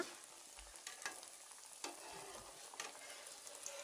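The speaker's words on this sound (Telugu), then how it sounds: "అరిసెను సన్నని సెగ మీద వేగనివ్వాలి" Ariselu, a rice flour sweet, fry in oil over a low flame with a soft, steady sizzle, punctuated by a few light scraping stirs and clinks close by.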